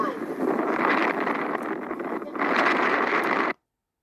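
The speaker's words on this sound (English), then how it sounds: "It's very windy" Strong wind buffets the microphone in a rough, steady roar with a short lull, then cuts off abruptly.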